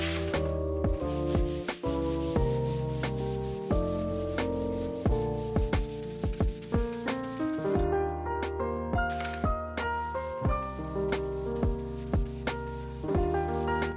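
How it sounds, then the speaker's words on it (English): Plywood being sanded smooth by hand, a steady rubbing scrape running beneath loud, continuous background music for the whole stretch. "The first thing I do is sand it down so it's nice and smooth."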